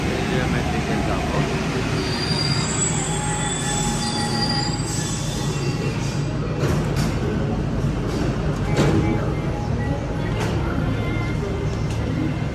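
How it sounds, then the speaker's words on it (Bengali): A Paris metro train pulls into the station with loud, continuous wheel squeal and rumbling rail noise close by, metallic screeches rising over the roar. Faint voices can be heard in the station. "আমাদের ট্রেন আসা গেল"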